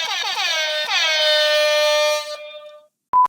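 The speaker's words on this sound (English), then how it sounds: "I got that sound effect just for that moment" An air horn sound effect blares in loud, sustained honking blasts for about two seconds, fading into a trailing tone, followed after a brief silence by a short, sharp electronic beep.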